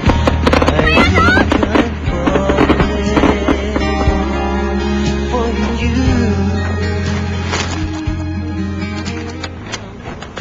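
Fireworks burst through a dense, continuous mix that includes background music, with repeated sharp pops and crackles spread across the whole stretch.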